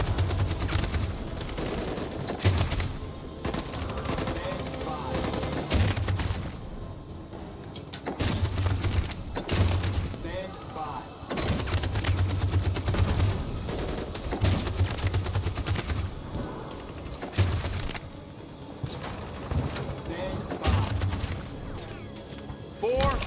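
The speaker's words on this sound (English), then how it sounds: "That machine gun is taking down everything that moves!" Sustained machine gun fire in the video game Detroit: Become Human, dense bursts of rapid shots with heavy impacts and crashes rolling on for over twenty seconds, loud and continuous with speech-like game chatter mixed underneath.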